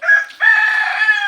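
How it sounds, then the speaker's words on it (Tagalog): A red junglefowl rooster crows once, loud and close, a short opening note followed by a sustained, strained call. "Labuyong labuyo po yan. Hindi po yan manok bahay."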